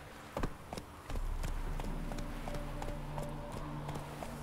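A horse gallops in The Witcher 3, its hooves clip-clopping in a quick, steady rhythm, fairly faint against a low game ambience.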